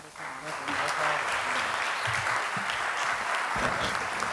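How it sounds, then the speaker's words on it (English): A symposium audience on climate change gives a sustained round of clapping that builds and holds steady, while a speaker's voice carries over it. "let's have one more big round of applause for this group"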